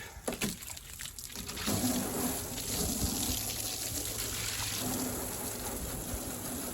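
Water gushes and splashes steadily up close, a loud continuous rushing flow after a few brief knocks at the start.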